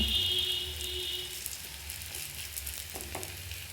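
Radish dosa sizzles on a pan over a low flame, a soft, steady frying hiss with faint crackles throughout and no voices.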